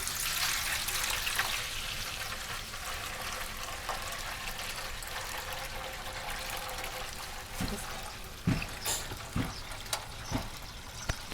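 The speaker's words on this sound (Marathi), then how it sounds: "ह्या भाजीला न हलवता आपल्याला आज्यात असं ही वरचं पाणी सगळं काढून घ्यायचं आहे" Water being poured off settled wheat starch (chik), a steady trickling pour running throughout, with a few soft knocks and clunks of the vessel toward the end.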